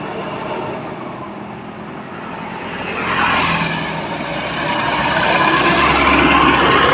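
A bus pulls into a terminal, its engine and tire rumble swelling as it draws nearer, over a broad wash of traffic and ambient street noise with no talk.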